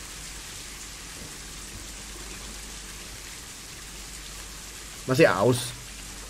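Steady rainfall in the Planet Zoo simulation game hisses softly and evenly throughout, with a short spoken phrase near the end.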